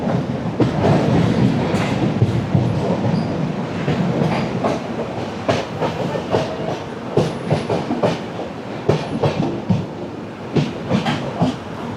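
The Netravati Express (16345) runs into Kuttippuram station in Kerala, with loud continuous rumble and rhythmic clickety-clack wheel beats over the rail joints, heard up close throughout without speech.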